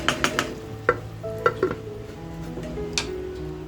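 Green chillies stirred into chicken kharda in a pan over a low flame, a few scraping strokes and light clinks of the spoon over a faint background hum, close and fairly quiet with nobody speaking.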